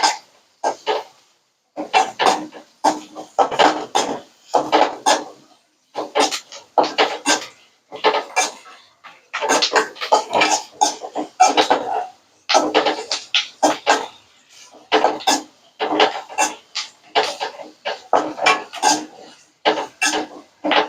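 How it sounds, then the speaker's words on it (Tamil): Onions being stirred and sautéed in a pan for a Tamil-style mutton dish, heard as repeated bursts of scraping and rasping of a spatula against the pan in an uneven rhythm, close and fairly loud with short pauses between strokes. "நல்லா சுருள நல்லா வதக்கிக்கணுங்கம்மா"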